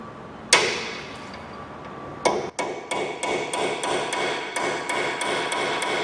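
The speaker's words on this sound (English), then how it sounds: "We've got to clean it down with a hammer and a punch into that groove." Hammer and punch driving a collar into its groove while cleaning down a Toyota Avensis front coil spring, sharp loud metallic strikes followed by a steady run of lighter, rhythmic taps.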